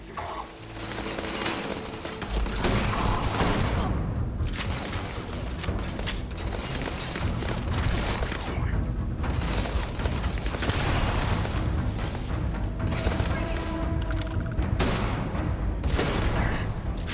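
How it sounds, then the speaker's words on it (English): A shotgun fires again and again in the video game Starfield, dense bursts of booming blasts layered with other combat noise, loud and nearly continuous. "it feels like this shotgun really is way more long range than you would"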